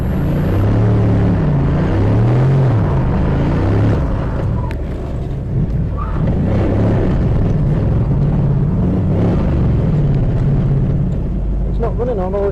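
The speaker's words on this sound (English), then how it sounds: "you might have heard it misfiring in that first one" A misfiring turbo V8 (1UZ) drift car engine rumbles and idles roughly, not running on all cylinders, its pitch rising and dipping unevenly, with talking over it throughout.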